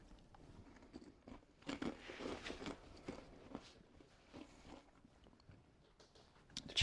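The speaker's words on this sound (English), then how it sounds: "There is a nice crunch to this coating." Crunchy coated fried chicken is bitten and chewed at a restaurant's Oktoberfest menu, giving close, crisp crackling crunches in irregular bursts with a few louder snaps, and no talk.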